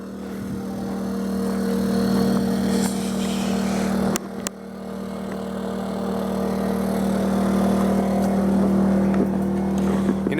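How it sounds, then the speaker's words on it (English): A generator running beside a 2013 Heartland Pioneer BH25 travel trailer, a steady loud engine drone with a strong low hum throughout, a brief dip and a couple of clunks midway. "Of course, y'all excuse the generator."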